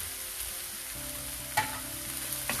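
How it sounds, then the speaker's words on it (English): Manchurian balls hit a hot pan with chili and soya sauce, giving a quiet steady sizzle with a few stirring scrapes and clinks of a spatula. "Now we'll add Manchurian balls."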